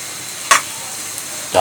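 Papaya bhaji fries in a pan with turmeric, giving a steady soft sizzle broken by a couple of brief scraping stirs, close and fairly loud.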